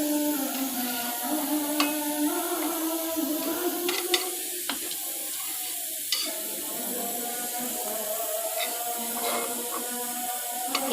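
Hilsa fish roe and innards fry in a pan with a gentle, steady sizzle, broken by occasional scrapes and clicks of stirring, with faint background tones.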